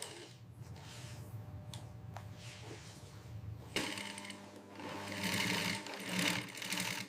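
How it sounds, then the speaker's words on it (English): An industrial sewing machine stitches leather jacket pieces in a frog leather factory, its steady rapid needle rhythm running throughout, growing louder and busier in the second half amid workshop clatter. "Artisans perform luxury stitch work on various pieces."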